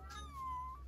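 A single short meow, drawn out and falling in pitch, made by a human voice imitating a cat.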